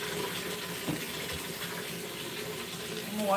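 Tap water runs steadily into a kitchen sink for washing dishes, a constant close-up hiss and splash with slight swells in flow, no talking.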